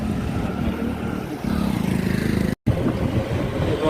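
Motorcycle ridden with a guide near Amer Fort, a steady low engine drone heard from the saddle, close and continuous with a brief dropout partway through.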